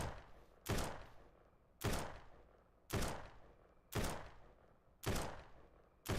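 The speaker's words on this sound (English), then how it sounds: "the way he's trading gunfire with all these infected" In the zombie survival game Surroundead, single gunshots ring out at a steady pace of about one per second, six sharp reports each trailing off in a short echo, with no talking.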